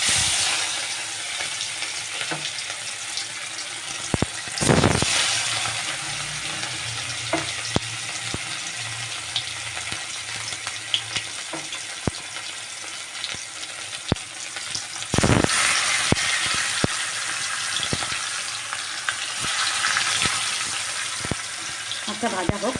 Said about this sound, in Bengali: এবার একটা একটা করে আমি মাছগুলোকে ভাজবো।